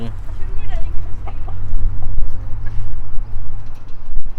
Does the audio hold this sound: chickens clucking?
yes